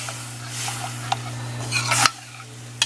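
Leftover stock being stirred into a macaroni and cheese casserole, with wet squishing, scattered utensil clinks against the dish and a steady low hum, ending in a louder scrape followed by a sudden drop.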